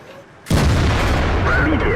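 A single loud, abrupt tank gun blast in World of Tanks, hitting suddenly and sustaining a dense roaring rumble for the rest of the moment, with a voice faintly underneath.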